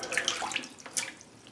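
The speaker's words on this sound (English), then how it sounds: "Just going to wet the face a little bit there." Tap water running and splashing as hands wet the face in a sink before shaving, light irregular splashes and trickles, close and fairly quiet, with no talk.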